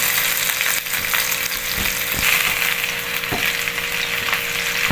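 Garlic and onion sautéing in a pan give a loud, steady sizzle and crackle, broken by a few soft scrapes of stirring, with no voices.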